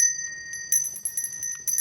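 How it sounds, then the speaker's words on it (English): A Salvation Army hand bell rings in a quick series of bright, metallic strikes with sustained ringing tones, close and clear with no talk. "You can ring the bell and I'll make the deposit"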